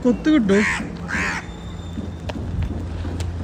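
A crow gives a couple of harsh, loud caws up close, followed by rustling and background noise.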